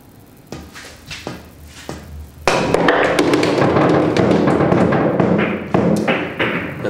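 Pool balls knocking together during an inverse speed trick shot on a billiard table: a few sharp taps and thuds, then a loud, dense clatter of colliding balls that fades toward the end, close by.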